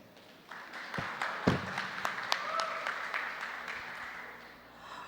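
Applause for a speaker at an education seminar, a hall audience clapping in a moderate rippling patter that swells after a few sharp isolated claps and then slowly thins out toward the end.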